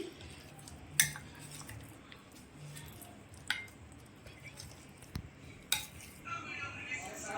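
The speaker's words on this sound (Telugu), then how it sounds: "సో అవకాడోస్ని స్మాష్ చేయాలి" Ripe peeled avocados are mashed in a bowl for an avocado sandwich, with quiet, soft squishing and scraping and a few sharp clinks of a utensil against the bowl, all fairly faint and close.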